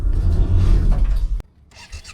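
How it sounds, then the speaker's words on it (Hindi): A motorbike engine starts, giving a loud close rumbling crank and catch for over a second, then cuts to a quieter idle-like murmur. "सलफ और हमारी बाइक हो गई स्टार्ट"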